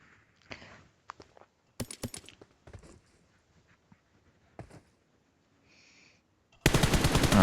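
Gunfire in a multiplayer shooter video game: scattered close single shots and short bursts with quiet gaps, a few footsteps, then a loud sustained burst of automatic fire at the end.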